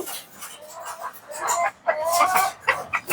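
A hen clucks repeatedly in short, uneven bursts, close by and fairly loud, with no talking.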